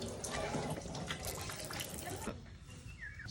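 Water runs from a campsite shower on a camping trip in Bicol, a steady hiss and splash that cuts off partway through, with faint talk in the background.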